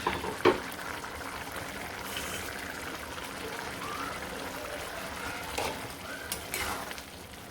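Fish sizzles and fries steadily in a hot pan, a soft continuous crackle with a brief louder splash near the start and a few scraping stirs later.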